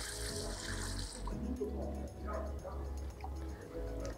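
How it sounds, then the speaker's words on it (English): Tap water runs into a bucket while four liters are measured out for a disinfectant pre-solution. The flow is a steady, moderately close gush that holds for the whole stretch, with a low background hum beneath it. "We have a bucket. We put 4 liters of water to make a pre-solution."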